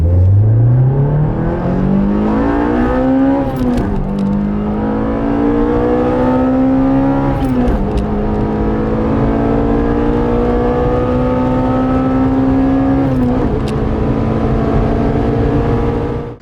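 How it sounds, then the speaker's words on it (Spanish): Toyota Corolla T Sport with its Lotus-developed engine revving hard to high rpm, a loud continuous engine howl that climbs in pitch, with brief dips at gear changes around four, eight and thirteen seconds, close and alone without talk. "de las 6200 vueltas a las 8300 aproximadamente, es un coche completamente diferente y ruge como una mala bestia"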